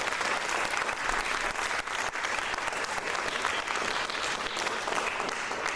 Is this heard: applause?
yes